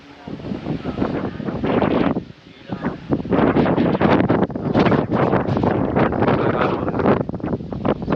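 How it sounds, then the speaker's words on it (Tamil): Strong wind at Rameswaram buffets the microphone in loud, continuous gusts with roaring rumble and little break. "காற்றும் பாருங்கள் பயங்கரமாக அடிக்குது"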